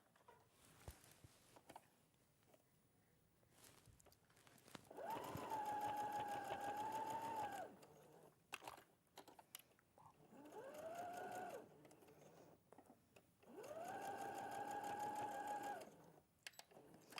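A sewing machine stitches through folded fabric in three bursts of rapid, whirring motor hum separated by quiet pauses, close and clear.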